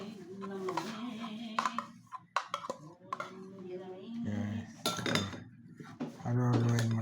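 Spoon clinks and scrapes against a dish while food is stirred, in a series of small metallic knocks and swishes, quiet and close, with a voice speaking intermittently.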